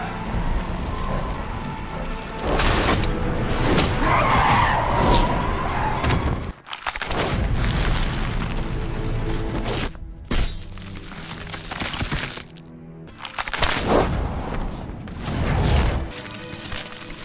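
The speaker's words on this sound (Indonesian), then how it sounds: "Seol Kang Woo yang kehilangan kendali saat mengendarai mobil akhirnya menabrak sebuah pohon." A car skids out of control and crashes into a tree, with loud shattering, smashing and heavy thuds in several bursts separated by brief gaps of near silence.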